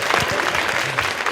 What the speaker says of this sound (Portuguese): Pessoal, palmas para a Vitória.